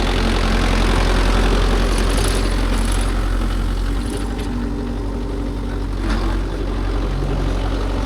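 A Mahindra Yuvo Tech Plus 585 DI 4WD tractor engine pulls a 9-tine cultivator, a continuous heavy low diesel rumble that stays loud and steady throughout, with faint background noise and no clear talk.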